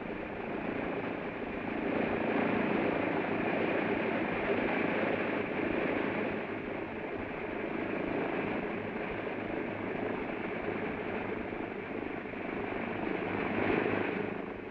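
An aircraft engine drones steadily as the craft comes into a military landing zone and taxis to park in takeoff position. The roar is loud and continuous, with a deep rotor-like hum that never fades.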